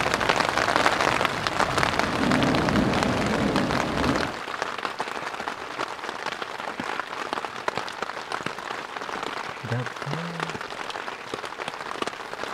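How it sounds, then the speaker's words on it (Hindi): Heavy rain pours down on a deep forest camp during a thunderstorm, a loud dense roar of drops that eases slightly after a few seconds but keeps falling steadily. "तब तक आप बारिश के कुछ ब्यूटीफुल से शॉट्स देखो"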